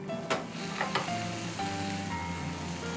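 Tomatoes cook in a pan with a steady close sizzle and frying crackle, broken by a few stirring scrapes and clinks and a faint tonal hum.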